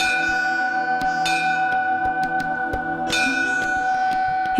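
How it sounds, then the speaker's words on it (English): A Hindu temple bell rings with repeated clear metallic strikes, each leaving a sustained, shimmering tone that overlaps the next, close and loud. "As soon as they are inside, Hindus ring a bell to announce their presence."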